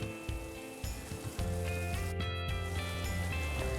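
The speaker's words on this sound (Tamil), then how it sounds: "சர்க்கரை நல்லா கரைஞ்சி நல்லா பாகு கொதிக்குது." Sugar syrup with saffron boiling in a pot for jangiri, a steady close bubbling and sizzling texture with a louder continuous stretch in the second half, heard alongside faint tonal background sounds.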